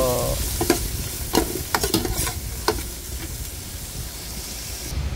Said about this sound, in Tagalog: sabay na natin ang loya, ginger at saka kamatis